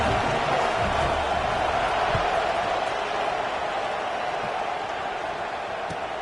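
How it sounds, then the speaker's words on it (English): A stadium crowd at a college football game keeps up a steady, dense buzz of noise, loud and continuous throughout, with no single voice standing out. "this crowd is buzzing after that last score"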